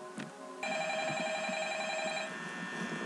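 A telephone rings in the video game Five Nights at Freddy's: a steady electronic bell tone starts after a brief lead-in and continues loud and unbroken, with no talking over it.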